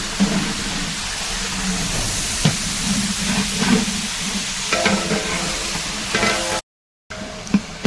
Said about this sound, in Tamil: வெங்காயத்தை போட்டு தாளிக்கிறோம்.